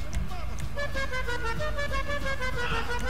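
A customized Declasse Voodoo lowrider's horn in GTA V Online sounds a sustained multi-tone honk with several steady pitches, under excited talk and game noise.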